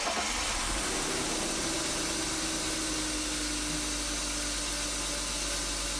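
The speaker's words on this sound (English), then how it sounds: "I start the engine" A BMW 5 Series E39 engine idles steadily after starting, a constant low hum with a broad hiss on top that stays even and unbroken throughout, with no talking.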